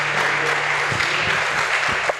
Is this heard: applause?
yes